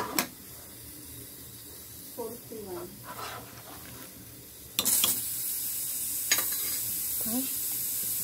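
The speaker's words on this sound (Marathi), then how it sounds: "चला तर आता आपण शेवग्याच्या शेंगा टाकून देऊया. छान हलवून घेऊया." Spoon scraping and stirring drumsticks into sambar in a pot with a soft bubbling hiss underneath, a few clanks, and a voice speaking briefly between strokes.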